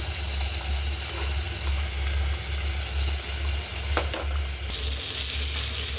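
Fish fries in a pan with a continuous close sizzle over a low hum, with a few brief scraping clinks near the end.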